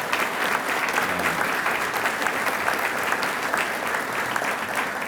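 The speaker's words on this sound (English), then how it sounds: "Please, round of applause for the Smith family." Sustained audience applause at a Fordham Athletics breakfast honoring the Smith family, a dense steady wash of many hands clapping at even loudness throughout, with no talk over it.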